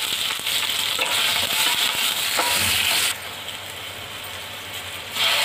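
Onions frying in hot oil for a veg thali with cumin and green chilli, a steady loud sizzle with scraping stirs. The sizzle drops partway through, then swells again.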